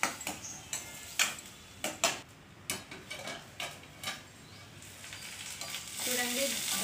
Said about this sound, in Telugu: ఈ ఉల్లిపాయ ముక్కలు అనేవి బ్రౌన్ కలర్ లోకి వచ్చేదాకా వేయించుకోవాలన్నమాట